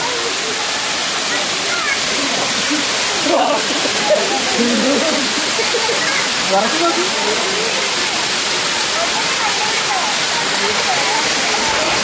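Thusharagiri waterfall, water plunging from roughly 10 to 60 feet, gives a steady, loud broadband roar throughout, with faint voices murmuring beneath the rush.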